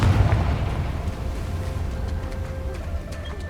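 A Confringo spell explosion in the Hogwarts Legacy video game sounds as a deep, loud rumbling burst that slowly fades into a low roar with faint effects over it.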